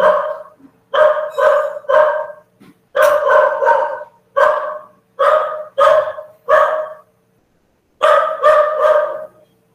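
A dog barks in repeated loud, close bursts, mostly in quick pairs and triplets with short pauses between, and no one talks.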